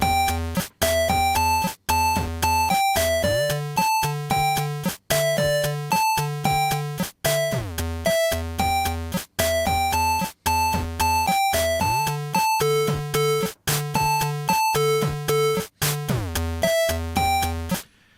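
PO-20 Arcade pocket synthesizer playing a repeating chord sequence of bright, chiptune-like stepped tones over a steady bass pattern, loud and close, looping continuously without any talk.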